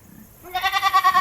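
A person imitates a goat's bleat, a wavering, nasal call rising after a short quiet start and pulsing rhythmically for under a second.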